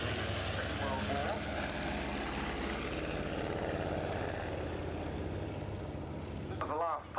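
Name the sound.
Cosmic Wind and Beaver aeroplanes flying past at Duxford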